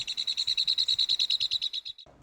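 Recorded birdsong plays from a phone through a small speaker outdoors, a rapid, steady train of about twenty bright repeated whistled notes that stops abruptly.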